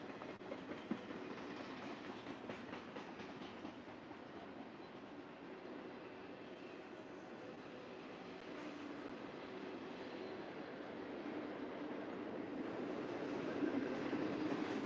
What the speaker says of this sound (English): There goes the train and the rumble